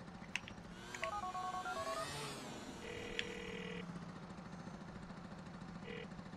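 Phone keypad dialing tones from Niko's mobile in Grand Theft Auto IV, several short stepped beeps in quick succession, then a brief ring tone over a steady low engine idle and street ambience.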